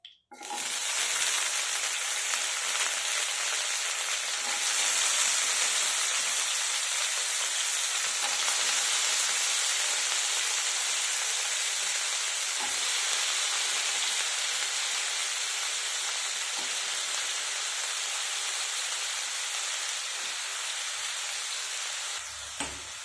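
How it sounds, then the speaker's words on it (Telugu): Eggplant pieces fry in oil in a pan for a chutney, giving a loud, continuous, steady sizzle and hiss that fades only slightly over time, with no voices. "ఇప్పుడు వంకాయలు కట్ చేసుకున్న వంకాయ ముక్కలు ఉన్నాయి కదా, దాంట్లో వేసేసుకొని బాగా వేపుకోవాలి."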